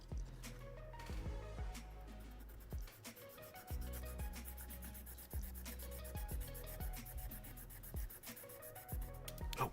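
A sanding block rubs against a part from a Master Grade Hyaku Shiki 2.0 model kit in repeated scraping strokes, close and steady, over continuous background music.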